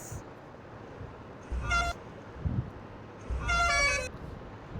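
A toy bus horn gives two short electronic toots, the second longer, with a soft thump between them against a quiet room background.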